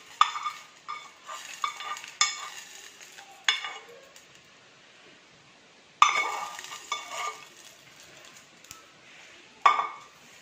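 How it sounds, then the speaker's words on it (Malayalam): Hot tempering poured into Kerala-style ash gourd pachadi, then a spoon stirring it: bursts of sizzling and scraping strokes in the pan, several separated clusters with quiet gaps, close and fairly clear with no talking. "ഈ കാച്ചിയത് നമുക്ക് പച്ചടിയിലേക്ക് ഒഴിച്ചു കൊടുക്കാം കേട്ടോ."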